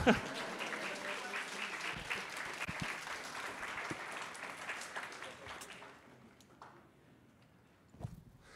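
A conference audience at a pitching talk applauds steadily, a broad even wash of clapping that fades out after about six seconds, leaving a quiet room with a few faint knocks.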